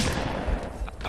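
Friendly gunfire in a video game, a dense burst of rapid shots and rumbling blasts filling the moment, loud and close with a voice shouting over it.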